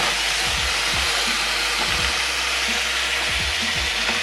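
Teriyaki beef fries in a pan with a loud, steady sizzle throughout, broken by a few soft low knocks.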